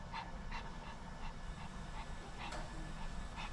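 A golden retriever pup, about five, panting and whimpering with faint soft yips, fairly close and steady over a low rumbling background, with no talking.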